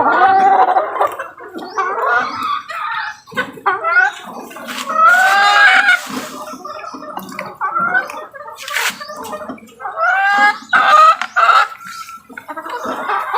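Pet native chickens being given vitamins cluck and call in a rapid, irregular series of close, fairly loud vocal bursts, with short pauses between runs.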